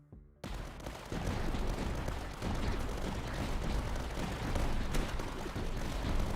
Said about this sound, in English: A medium mortar right here.